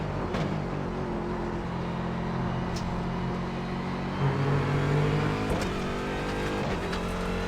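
Steady race-car engine drone from the iRacing sim, holding a sustained mid-rev whine with slight pitch shifts and a brief rise near the middle, loud and continuous with no voices.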